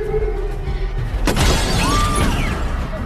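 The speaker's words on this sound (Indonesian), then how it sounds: "Sebuah lemparan batu memecahkan kaca mobil." Glass of a car window shatters as a thrown stone strikes it, a sudden loud crash followed by a spray of tinkling shards and debris, heard alone without speech.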